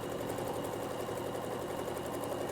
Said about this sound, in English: I'm just going to do a straight stitch all the way down.